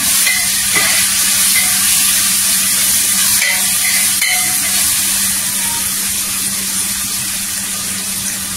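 Chopped green chillies sizzling loudly in hot oil in a pan, a dense continuous crackling fry that stays strong throughout, easing slightly toward the end.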